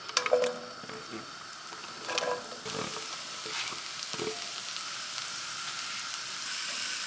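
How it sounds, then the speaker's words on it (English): Sliced mushrooms sauté in a tablespoon of butter in a pan, giving a steady close sizzle with occasional stirring scrapes and a few louder spattering bursts near the start. "In a separate pan, add in 1 tablespoon of butter and sauté your sliced mushrooms."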